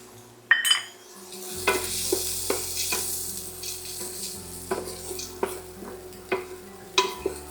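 Whole juniper berries, cloves and bay leaves with black peppercorns fry in a hot pan, giving a steady close sizzle broken by repeated sharp scrapes and stirring knocks against the metal.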